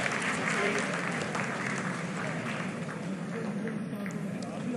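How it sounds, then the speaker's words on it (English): An audience in a crowded hall during the Chandrayaan-3 Vikram lander's vertical descent breaks into loud, sustained applause and cheering, with voices mixed into the clapping. "Lot of applause"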